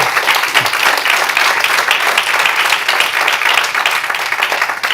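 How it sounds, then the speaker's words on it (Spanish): A congregation applauds during a church service, loud and close, a thick continuous clatter of many hands clapping with no speech over it. "Yo tú le volviera a dar otro aplauso a Jesús."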